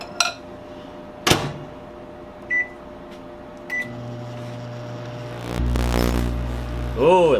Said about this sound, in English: Now let's see what an incandescent bulb does in a microwave.